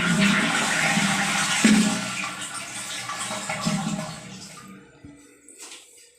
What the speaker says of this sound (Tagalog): Flush muna natin para makita natin yung problema.